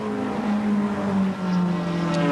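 Street cars in a 1986 scratch race at Symmons Plains circuit braking hard into a left-hand bend, a steady loud engine drone with shifting tones held close throughout, no voices over it.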